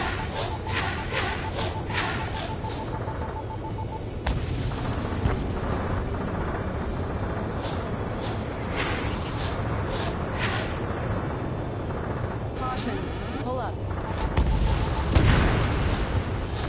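Explosions and artillery fire in a video game, with booms, blasts and scattered shots piling up over a constant rumbling battle din that swells toward the end.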